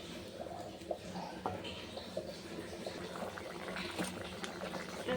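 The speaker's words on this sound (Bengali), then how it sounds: "এবার ঝোলটা ফুটে এসছে" Fish curry broth with potatoes bubbles at a steady rolling boil in a pot, a continuous close simmer with small pops and gurgles and no talking.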